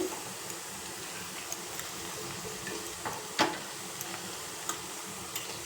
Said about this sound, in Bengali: দেখো এক সাইড ভাজা হয়ে গেছে এবার আমি উল্টে দিচ্ছি